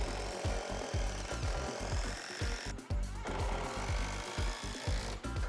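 A 5-inch lag bolt is driven into a wooden truss with a power driver, making a close, loud, rapid grinding hammer-like rattle that runs nearly continuously with a couple of brief dips.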